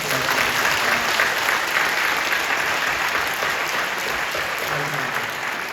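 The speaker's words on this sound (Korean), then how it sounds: "우리 젊은이들, 우리 학생들, 아이들에게 한번 박수 한번 해주십시오." A Korean church congregation at a Good Friday dawn prayer service in Incheon claps for its young people and students. The applause is continuous and full, steady from start to finish with no speech on top.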